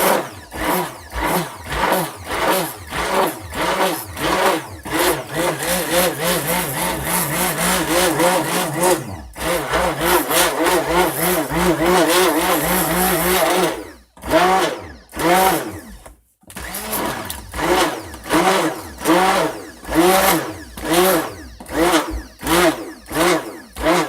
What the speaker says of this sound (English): we're going to do really quick is zap this with the stick blender again